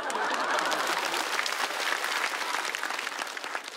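Audience applause at a stand-up comedy show in Shanghai: dense, steady clapping from a live crowd that stays loud throughout and eases slightly toward the end.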